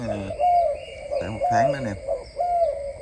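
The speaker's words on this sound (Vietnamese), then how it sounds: "Anh em thấy nước gù nó không?" Imported pigeons cooing, a breeding pair: several soft, wavering, throaty coos repeat in a loose rhythm, close by, with someone briefly speaking between them.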